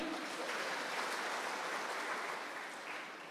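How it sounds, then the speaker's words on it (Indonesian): A church congregation claps together during a Christmas sermon, a continuous dense wash of applause that fades slightly at the close. "Yang setuju tepuk tangan buat Allah kita."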